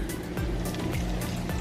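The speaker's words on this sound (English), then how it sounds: "I think we should just dump this in the sink because we have no other use for it" Vodka poured into a kitchen sink as a steady gurgling, splashing stream, close and continuous for a moment, with no talking.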